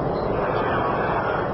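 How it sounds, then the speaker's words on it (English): A Soyuz rocket lifting off on the Expedition 13 launch, a broad, continuous rumbling roar that fills the whole moment evenly and loudly, with no voices heard. "Liftoff of the Soyuz rocket"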